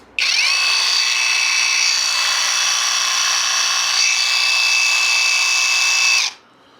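A cheaper alternative to a DeWalt power tool is switched on and runs for about six seconds with a steady, high-pitched motor whine that starts suddenly, holds a level pitch and then cuts off.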